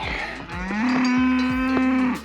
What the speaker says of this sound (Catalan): aquesta vaca que ve cap aquí,